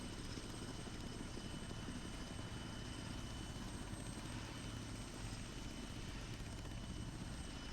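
Aircraft engine drone from a military flight game, a steady, even, continuous roar with rotor-like texture holding at constant level throughout, fairly faint and with no voices.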